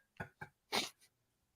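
Two quick breathy intakes followed by a single sharp, burst-like sneeze and a small trailing sound, close and fairly quiet, with no talking.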